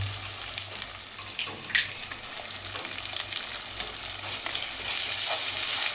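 Byadgi chili powder being stirred into a homemade egg curry masala as it fries, a steady loud sizzle with scraping spoon strokes throughout and a steady low hum underneath.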